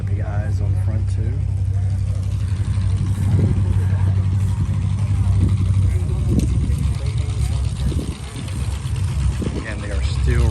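Demolition derby cars roll in at the Chautauqua Fairgrounds, a steady low engine rumble with occasional revs under continuous nearby talk.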